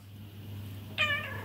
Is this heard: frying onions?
no